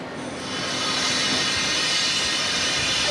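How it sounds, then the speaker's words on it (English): A passenger train bound for Flåm in Norway, steady rolling rumble and hiss of the rail cars building up in the first half second, then holding loud and constant with no voices. "The train to Flom."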